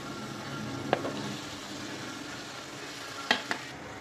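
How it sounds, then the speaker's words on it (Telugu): Capsicum and tomato frying in a pan for pav bhaji give a soft, steady sizzle, broken by two sharp utensil scrapes of stirring, one early and a pair near the end. "దెన్ టొమాటో వేసి బాగా ఫ్రై అవుతుంటాము"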